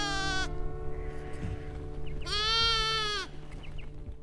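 Wool sheep in central Queensland bleat twice: a short cry at the start and a longer, wavering bleat midway, close and clear over a low rural background hum.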